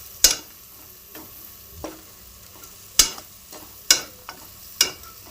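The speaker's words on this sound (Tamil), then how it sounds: "மஞ்சத்தூள், கறி மசாலா, கரம் மசாலா, மட்டன் மசாலா நல்லா வதக்கிக்கலாம்." Masala powders, turmeric, curry, garam and mutton masala, sautéed in a pan for a mutton curry: a soft sizzle broken by a handful of sharp spoon scrapes and taps against the pan, close and spaced apart.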